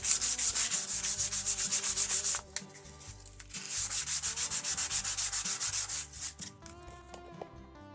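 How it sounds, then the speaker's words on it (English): Rhythmic back-and-forth sanding strokes on an old knife being restored, steady and close, with a brief pause midway before the rubbing resumes. "I got a lot of sanding left to do"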